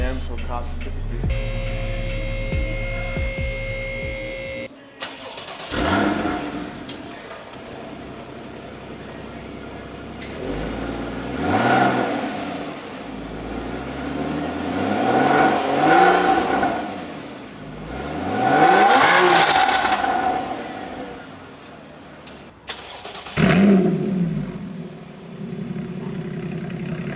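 Car fitted with a newly installed Borla exhaust, on a build meant to rival a Porsche GT3 RS, revving in several rising and falling bursts with a deep exhaust note, some pauses between them.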